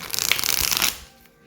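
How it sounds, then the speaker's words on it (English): Tarot cards shuffled by hand for a card reading, a dense run of rapid papery riffling flicks for about a second, close and fairly loud, then stopping abruptly into near silence. "Let's get a shuffle."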